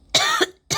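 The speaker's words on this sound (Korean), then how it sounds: "죄송합니다. 기침이 나네요." A person sick with COVID coughs twice in quick succession, close and loud, then starts a third cough, with no talking.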